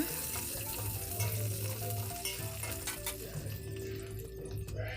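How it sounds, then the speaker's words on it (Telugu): Curry leaves and dried red chillies fry in hot oil for carrot and radish sambar, a steady close sizzle with faint stirring and occasional utensil clinks throughout. "కరివేపాకు ఎండుమిర్చి వేసి దొరగా వేయించాలి"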